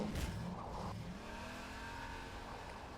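Car racing sounds from a video game: a steady engine drone with harmonic whine holding throughout, loud and continuous, with a brief squeal or skid early on.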